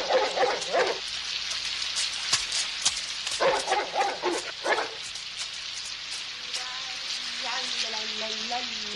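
Rain falls on a night street in Flushing, a steady hiss throughout, with a dog barking in loud bursts over it and a voice-like tone near the end.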